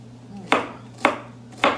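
Three evenly spaced knife chops through Brussels sprouts on a cutting board for a beef stir fry, crisp and close over a low background hum.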